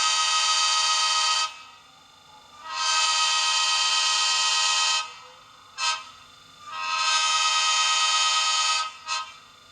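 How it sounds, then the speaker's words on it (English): A Bachmann ACS-64 Amtrak/SEPTA model locomotive's sound decoder plays a grade crossing horn quill: long, loud, steady chime-horn blasts, then a brief toot, another long blast and a final short toot, with quiet motor hum in between. "here's the grade crossing quill on F0."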